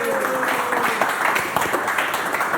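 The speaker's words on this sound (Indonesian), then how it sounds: "Tepuk tangan." Audience clapping in an Indonesian comedy studio setting, a steady wash of hands lasting the whole moment with a few sharper claps poking through, moderately loud.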